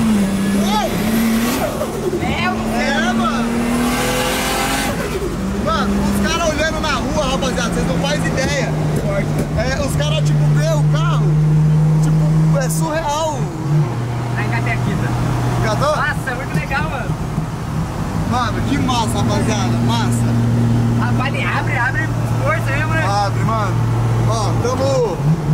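A Nissan 350Z on the highway drives and revs, its engine note rising and falling through the gears in a loud steady drone. People talk over it throughout.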